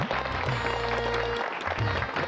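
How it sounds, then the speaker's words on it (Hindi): A short burst of clapping from a small group, steady and close, with a faint voice and some background music. "तालियां।"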